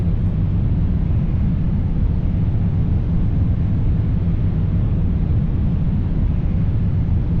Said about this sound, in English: What you're hearing now is the dynamic pressure.